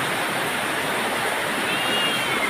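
Heavy rain during a typhoon at dawn in the Philippines, with floodwater flowing and overfull drains. It makes a dense, steady broadband roar and hiss, loud and close throughout, with no voices heard.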